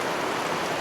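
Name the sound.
heavy rain falling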